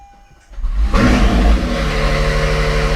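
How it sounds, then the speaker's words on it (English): A 2017–2022 Acura NSX starts up inside a garage: a starter whir, then the engine catches with a loud rev that settles into a strong, rumbling idle close by. "we're going to go ahead and start the vehicle up"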